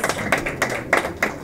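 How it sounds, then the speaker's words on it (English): Several sharp hand claps land at an even, steady rhythm at a book launch event, crisp and fairly close, without any speech. "We can get better with our claps"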